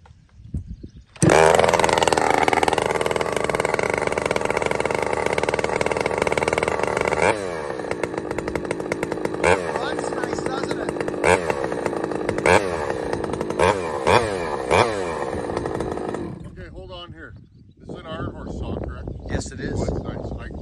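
An Ironhorse 371xp chainsaw roars to life and runs loud and close at high revs, then drops to an uneven, surging rev with repeated blips before dying down near the end.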